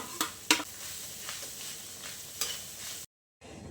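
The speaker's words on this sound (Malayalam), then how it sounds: "തേങ്ങ നല്ലതുപോലെ വറുത്തെടുത്തിട്ടുണ്ട് ഈ ഒരു കളർ ആവുന്നിടം വരെ ഇത് വറുത്തെടുക്കുക" Grated coconut roasting in a pan with curry leaves and spices, heard as a low continuous sizzle broken by several sharp spatula scrapes and clinks, then a brief silence.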